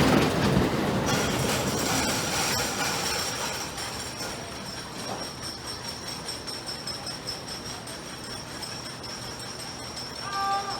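The retracked Grizzly wooden roller coaster at Kings Dominion rumbles and clatters along its track with high wheel squeals, loud at first and then settling into a steady rolling roar.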